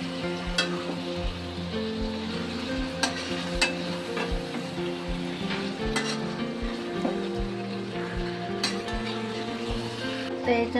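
Chicken pieces frying and being stirred into a reddened onion masala with turmeric for a spicy chicken sukka, a steady close sizzle with repeated scraping stir strokes throughout.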